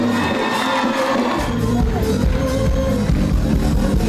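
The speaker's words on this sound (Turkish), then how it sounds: "Alkışlar Sayın Başkan için." A large outdoor thank-you concert crowd in İmamoğlu, Adana, cheers and applauds the metropolitan mayor, a dense, steady roar of many voices and hands that stays loud for the whole stretch.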